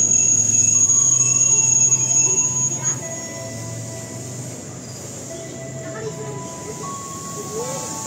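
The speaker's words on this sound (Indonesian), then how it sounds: "Jalur 5 masuk komuter lain tujuan Tangerang KA2002 rangkaian 10 kereta jalur 5." KRL commuter train to Tangerang, a ten-car set, arriving at platform 5 of an Indonesian station, its wheels squealing in long high tones over a rumbling roll as it slows, with a station announcement voice over it.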